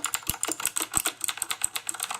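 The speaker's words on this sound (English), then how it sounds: "here's what a blue switch keyboard sounds like" Rapid, close typing on a Velocifire K61WS wireless mechanical keyboard with blue switches, sharp clicky keystrokes in an uneven, fast rhythm, heard alone.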